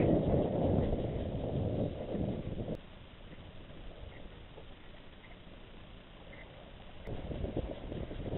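Wind gusting over a small sailing boat at sea, a loud roaring buffet for the first few seconds, dropping to a quieter steady rush, then swelling again near the end as it comes and goes.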